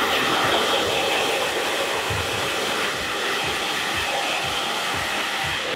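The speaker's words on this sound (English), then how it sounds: "I'm gonna dry it through and do a little bit more dry texture as well" A hair dryer runs continuously, drying hair to add dry texture during a military-style high and tight skin fade haircut, its loud steady whoosh close by with small airflow fluctuations as it moves through the hair.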